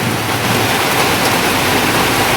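Heavy rain pours down in a dense, constant hiss, loud and close, with no voices.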